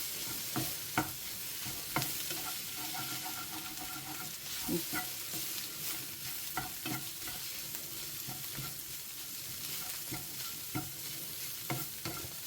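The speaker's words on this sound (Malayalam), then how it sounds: "എന്നിട്ട് ഈ മുട്ട ഇതുമായിട്ട് നന്നായിട്ട് മിക്സ് ചെയ്ത് കൊടുക്കുക." Beaten egg is stirred into broccoli in a hot pan for a Kerala-style thoran, with gentle continuous sizzling and repeated clicks and scrapes of a spatula. The sounds are fairly close and no one speaks.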